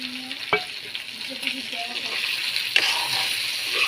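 Pork curry sizzles and fries steadily in a pan, close up. A couple of sharp utensil knocks and light stirring sound over the continuous hiss.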